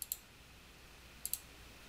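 Two pairs of sharp mouse clicks, heard at the start and again about a second later, made while selecting a graph in an Excel spreadsheet, with quiet room noise in between.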